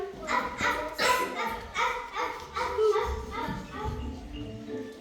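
In a kindergarten group's school play of the Estonian folk tale about the turnip, a child imitates a dog, giving a run of about eight rhythmic barking yips at moderate volume, with children's voices mixed in.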